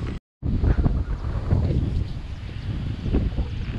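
Strong wind outdoors beside an ecological pond converted to a flood detention basin, gusting buffets and rumble on the microphone after a brief dropout, continuous and loud with no talk.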